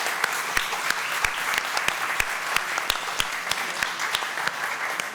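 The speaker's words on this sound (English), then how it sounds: "Could you join me in giving the panel a round of applause?" Conference audience applauding a panel, a dense steady wash of clapping with sharp individual claps standing out, sustained and even throughout with no talk over it.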